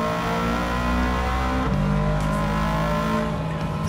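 A race car engine in the Gran Turismo 7 video game runs at steady high revs, a loud continuous harmonic drone with a brief pitch shift midway and no talk over it.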